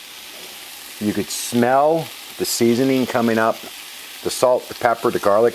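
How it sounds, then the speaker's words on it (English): Onions and seasoning sizzle in a pot as the base for minestrone, a steady frying hiss running beneath a person speaking close by for most of the stretch. "And you could hear it sizzling and going."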